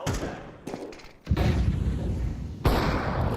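A grenade goes off in a Counter-Strike match with a heavy, booming blast, then a second loud burst, followed by rumbling noise at close range.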